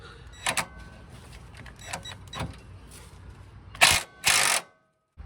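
A 22mm socket wrench works on the nut of a front lower control arm on a 1999 Infiniti QX4/Nissan Pathfinder, giving scattered metallic clicks and a couple of louder ratcheting bursts near the end.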